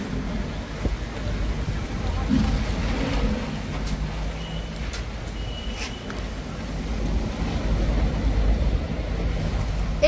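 Rain and gusting wind of a storm sweeping a mountain area, a steady dense roar that stays even for the whole stretch with no pauses.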